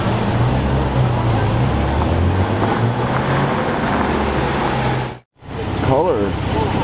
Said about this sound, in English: E36 M3 with a European plate.